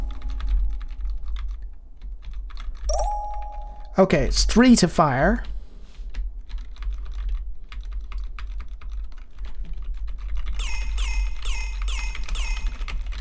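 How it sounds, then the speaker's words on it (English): A computer keyboard is hammered in fast, uneven bursts of clicky keystrokes while playing the 1990 DOS game Star Control, with beeps and tones from the game mixed in and someone talking over part of it. "I'm just hammering on the keys here"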